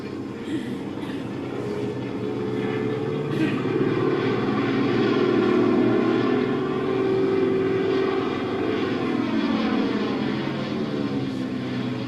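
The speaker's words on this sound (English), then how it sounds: "that plane's in trouble." A propeller crop-dusting airplane drones overhead while dusting alfalfa, its engine note building to a loud pass and then slowly fading away.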